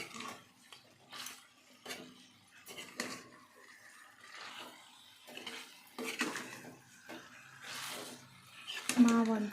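A spoon stirs chicken in a pot in a small home kitchen. Quiet metallic scrapes and clinks come in short, irregular bursts close by, with a brief voice near the end.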